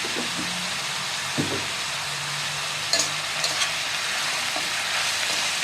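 Onions with turmeric and rock salt sauté in a pan for mutton curry, giving a steady close hiss of frying with a few soft clinks and stirs and no voices.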